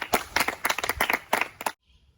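Short burst of clapping for the winning team of a school science quiz, a handful of hands beating unevenly and close by for under two seconds before cutting to near silence.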